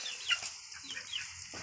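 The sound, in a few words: chicken clucking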